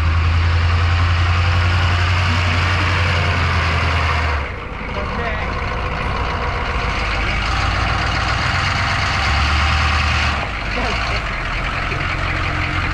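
A pickup truck stuck in about two inches of snow revs its engine loudly and steadily nearby, with a heavy low rumble that drops briefly twice as the throttle eases.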